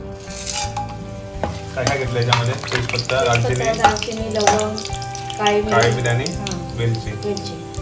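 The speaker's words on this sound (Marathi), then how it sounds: "इकडे फक्त खडे मसाले घेतले ते सगळे आपण तेलामध्ये घालणार" Whole spices crackling in hot oil with loud sizzling and stirring, mixed with tonal clatter and other kitchen sounds.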